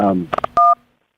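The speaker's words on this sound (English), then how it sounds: "Somebody keeps hitting buttons." Phone keypad dialing tones ring out: three quick beeps follow a voice, then one longer, louder tone that fades away.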